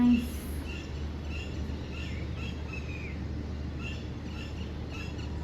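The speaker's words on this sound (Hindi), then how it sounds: "इतने सारे चिड़ियों की आवाज़" Many birds chirp and call in scattered bursts outside a hotel balcony, moderately distant over a steady low outdoor hum, with no talking.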